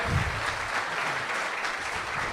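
A crowd applauds at a live evening show, dense steady clapping filling the room close by.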